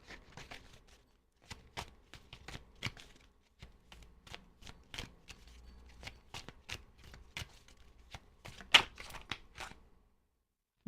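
Sharp, repeated riffles and snaps of a card deck being shuffled, in uneven bursts with short pauses, close and crisp.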